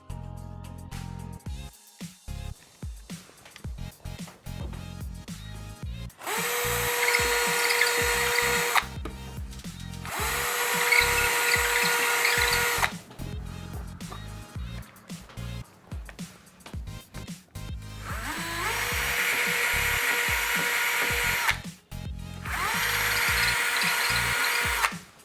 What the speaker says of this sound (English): I've got my cordless drill all charged up and ready to go, and I've got a suitable masonry drill bit attached for this wall that I'm going to drill into